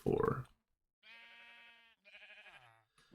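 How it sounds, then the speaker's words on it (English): Sheep in the Minecraft GregTech New Horizons modpack give two short synthetic bleats, clear and close, after a brief burst of other noise. "I don't know if I want to kill the sheep just yet."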